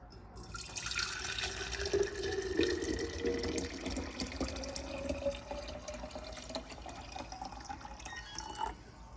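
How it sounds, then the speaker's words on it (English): Vegetable broth pours steadily into a mason jar, the pitch rising as it fills, with faint clinks and splashes close by. "I'm just gonna pour it in these mason jars"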